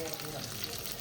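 Bangude (mackerel) frying in a pan, a steady close sizzle and hiss of hot oil running evenly throughout the short moment.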